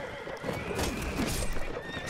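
Horses neigh and whinny in the Mount & Blade Warband video game, a loud sustained cry rising over the background with hoofbeats clopping underneath, all within a couple of seconds.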